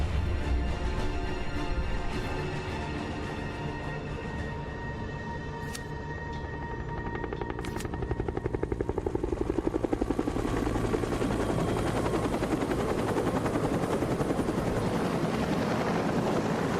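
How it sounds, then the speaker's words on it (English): Military helicopter lifting off in the video game State of Decay: Lifeline, a loud, close rotor thump that drops briefly, then swells into a heavy, rhythmic chop. "The helo is away."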